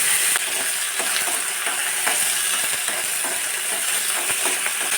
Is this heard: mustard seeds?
yes